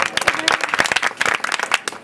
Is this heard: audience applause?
yes